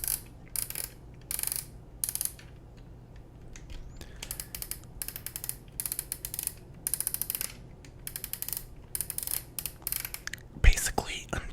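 A film camera's winding crank is turned in repeated bursts of fine ratcheting clicks, close and quiet, with soft whispering between the bursts and a sharper knock near the end.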